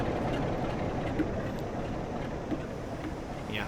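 A British Rail Class 47 diesel locomotive passing on the West Coast Main Line at Preston, giving a steady loud rumble and roar of engine and rolling wagons throughout, with faint clicks over it.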